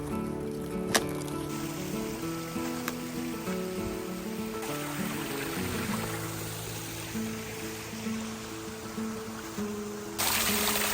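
Creek water flowing steadily near an old mill site in a forest, a soft continuous wash and trickle heard close by, with faint tonal background noise and no talking.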